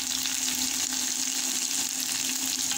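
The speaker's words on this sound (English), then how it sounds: "You can see it frying up there." Steady, loud sizzling of tomato paste frying in hot oil in a pot, a continuous crackling hiss with no voices.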